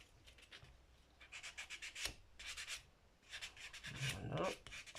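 A nail file rasps over fingernails before gel polish, in short rubbing bursts of scratchy friction with brief pauses, close and fairly quiet.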